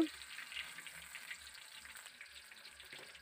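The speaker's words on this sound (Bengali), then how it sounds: "টমেটোর চপগুলো প্রায় আমার ভাজা হয়ে গেছে" Tomato fritters frying in oil give a quiet, steady sizzle with light crackling throughout, heard up close and without talk.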